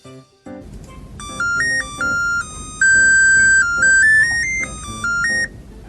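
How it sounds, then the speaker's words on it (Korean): LG Tiiun plant grower sounding its water-refill alarm for low nutrient solution, a loud, clear electronic chime melody of sustained stepping tones lasting several seconds, heard alone. "물탱크의 양액이 부족한 경우 물 보충 LED가 깜빡이거나 물 보충 알람이 울립니다."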